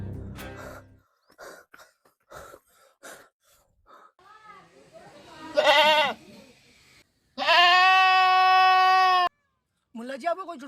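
A goat bleats loudly a couple of times, a long wavering cry near the end, among gasps and breathy vocal sounds.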